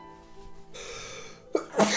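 A single close, abrupt sneeze bursts out near the end over quiet background music, preceded by a short intake of breath.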